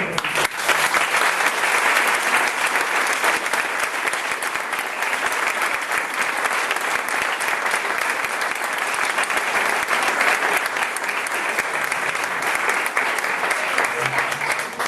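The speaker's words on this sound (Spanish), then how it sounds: "Un aplauso" A book-festival audience applauds an author after he finishes telling a story, a long, dense, even roar of clapping from a large crowd that barely wavers over fifteen seconds.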